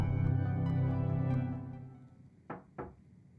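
Two soft, quick knocks on a door in the game LipTrip ~My Boss Is My Heat Suppressant!~, heard close together near the end after a sustained tonal sound fades away.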